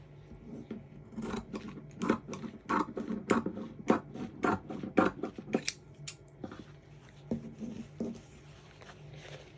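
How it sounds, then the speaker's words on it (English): Scissors snip steadily through excess fabric around the stitching of a small sewn doll diaper, a quick series of sharp close cuts that slows and thins toward the end, with no talk. "Now I'm going to cut around, cut the excess fabric away."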